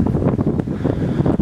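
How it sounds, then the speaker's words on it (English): Strong wind buffets the microphone on a hilltop above Llyn Padarn in Wales near old mining buildings, a loud, continuous rumbling roar with gusty fluctuations and no speech. "It's quite windy."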